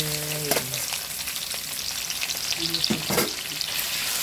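Pork stir-frying with garlic in a pan over a wood-fired stove, a steady loud sizzle broken by a few sharp scrapes and clatters of the utensil, with no voices.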